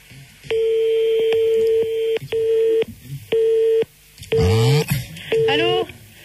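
Telephone keypad tones beep in short bursts at close range while a call is placed back to a family, with brief sweeping electronic sounds between the dialing tones.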